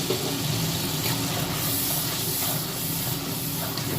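Onion and green chili paste sizzles in hot oil in a pan with a steady, loud, close hiss that runs through the whole stretch with no talking over it.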